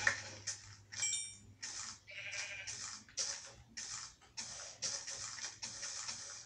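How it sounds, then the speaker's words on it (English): Sheep in the video game Minecraft bleat repeatedly, a steady series of short, faint bleats heard alone over quiet game ambience. "There's a sheep over here."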